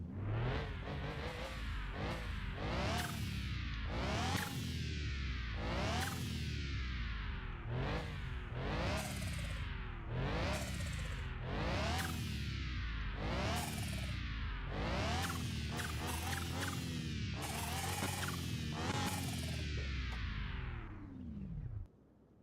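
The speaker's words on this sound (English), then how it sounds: "that turbo sounds terrible" A car engine in a video game revs up and down repeatedly in rising sweeps, with a rough whirring whine from a faulty turbo on each climb, loud and close throughout.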